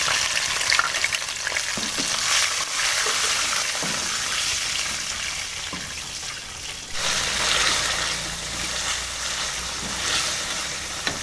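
Green chilies and garlic-ginger paste sizzle in hot oil for a beef biryani, a loud continuous crackling fry with stirring scrapes, swelling sharply midway as more goes into the pan.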